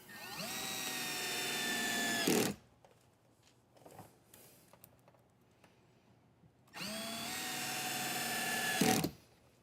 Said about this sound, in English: It's very small, very torquey. It's got that clutch on it, so you can really dial in what you're screwing into.